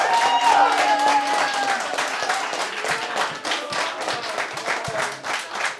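An audience at a live political debate claps steadily, a dense, fairly loud round of applause lasting the whole stretch, with some voices murmuring underneath.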